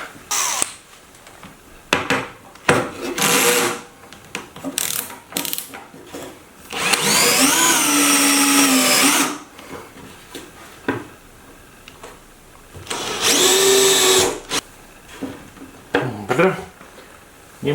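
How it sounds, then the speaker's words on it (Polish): A cordless screwdriver drives screws to fix plastic to sheet metal while building a DIY spray booth for model painting. Two loud whirring motor bursts, one about two seconds long and a shorter one, sit between spoken remarks and small handling clicks. "Hmm, chyba będzie lepsza wkrętarka."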